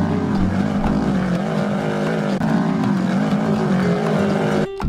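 A dune buggy engine roars steadily with a rough, revving drone, loud and close, holding on without a break before cutting off abruptly near the end.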